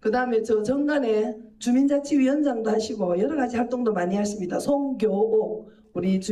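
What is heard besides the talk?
None of the usual background noises is heard.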